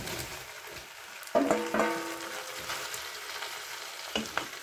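Mushrooms and broccoli frying in a Cookeo multicooker, a soft steady sizzle with a few sharper clatters and scrapes from stirring, fairly quiet and close with no voices.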